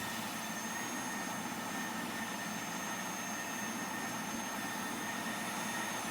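An old plane's jet engine roars steadily in the Project Flight game, a constant, loud, even rush that never rises or fades, with no talking.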